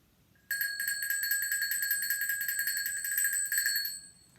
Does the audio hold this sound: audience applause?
no